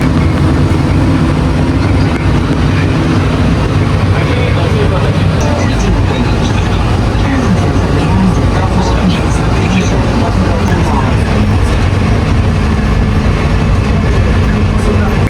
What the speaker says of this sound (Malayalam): D1 മുതൽ D32 വരെയുള്ള ഗേറ്റുകളിൽ കൊണ്ടുപോകാനുള്ള ഒരു മെട്രോ ലൈനാണ്.